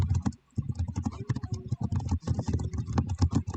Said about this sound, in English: Sorry if you guys can hear me typing.